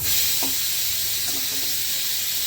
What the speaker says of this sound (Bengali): পেঁয়াজটাকে লাল লাল করে ভেজে নেবো।